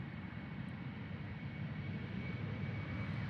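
A Speedbird Embraer 190 jet departs Amsterdam Schiphol, a steady, distant engine roar that builds slightly and continues without pause.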